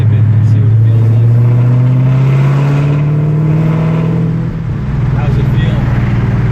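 A 2017 Dodge Challenger Scat Pack engine with manual transmission, gently tipped into throttle in fourth gear at about 1500 rpm, gives a steady low rumble that rises slowly in pitch, then eases off near the end.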